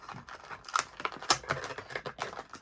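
Metal snips cut the ties holding a diecast superhero figure in its packaging, producing a quick series of faint, close clicks and snaps.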